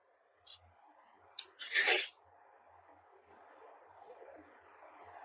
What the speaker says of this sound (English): I'm sorry guys, I keep sneezing.